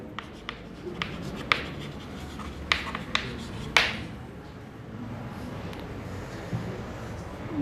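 Writing by hand during a lecture on human health and disease, heard as a close series of faint, quick taps and scratches from a pen on a board or paper, with no talking over it.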